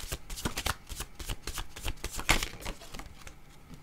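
A deck of oracle cards being shuffled by hand, a rapid run of crisp riffling flutters and papery slaps, close and fairly quiet, with no talk.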